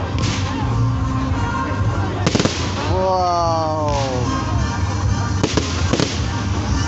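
A fireworks display in a park in Woking, UK, crackles with sharp loud bangs and sizzling bursts over a steady outdoor rumble. A spectator exclaims in amazement between the blasts.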